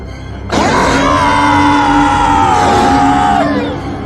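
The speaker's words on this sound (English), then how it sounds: "The Jiangshi let out a deafening scream as the talisman burned into its flesh." The Jiangshi, a hopping vampire of Chinese folklore, lets out a deafening scream as a burning talisman sears its flesh: a single loud, sustained wailing cry lasting about three seconds, close and alone before trailing off.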